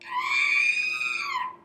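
A Star Wars Droid Inventor Kit toy droid plays an electronic scream effect, a single sustained shrill tone lasting over a second, loud and close, with no talk.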